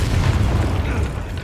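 A Bombarda spell explosion in Hogwarts Legacy, a loud, dense booming blast with deep rumble sustained through the whole moment, no voices over it.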